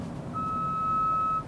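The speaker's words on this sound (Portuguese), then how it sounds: "ele vê o alerta da frenagem emergencial, vocês devem ter ouvido. Um alerta bem sutil" A Honda City hatchback's emergency braking alert sounds as a single steady electronic tone lasting about a second, subtle and clear above low road and traffic rumble inside the car.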